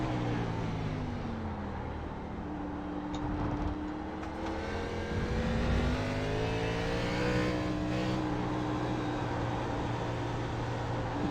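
A race car engine in the iRacing game at Road America drones loudly and without a break, rising and falling in pitch as it revs through the gears, with a steady hiss of wind and road noise underneath.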